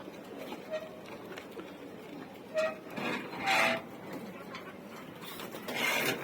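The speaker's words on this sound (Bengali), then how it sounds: "এগুলো হচ্ছে ফুস্টারিং কবুতর।" Foster pigeons kept in a home loft coo softly in short, scattered bursts, fairly faint amid low room noise and light rustling.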